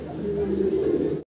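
Large, active fancy pigeons give a low, steady coo held for about a second close by, with voices mixed in, before the sound cuts off abruptly.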